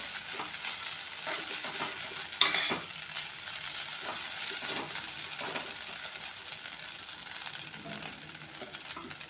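Grated potato bhaji is stirred and mixed in a pan after salting, giving soft scraping and a constant light sizzle, with one sharper clink partway through.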